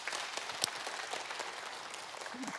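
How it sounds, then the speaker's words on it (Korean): A lecture audience applauds in a dense, moderately quiet patter of many hands that holds steady throughout, with a sharp louder clap standing out near the start. "박수 한번 주세요."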